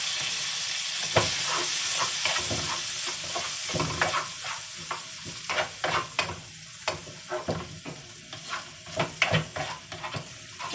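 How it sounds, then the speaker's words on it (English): Crawfish sautéing in a pan, a continuous sizzle and hiss broken by repeated clicks and scrapes of stirring that grow more frequent toward the end. "And now I'm going to put the crawfish in there and saute those."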